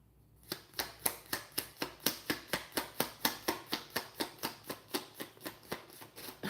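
Tarot cards being shuffled by hand in a quiet room, a rapid, even run of about twenty crisp riffling snaps, close and faint, with no voices.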